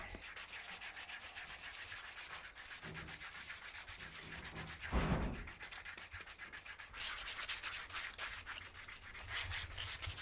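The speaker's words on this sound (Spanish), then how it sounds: "cansaste ya de lijar" Steady hand sanding on wood, continuous rasping strokes in a fast back-and-forth rhythm, close and fairly loud, with a brief knock midway.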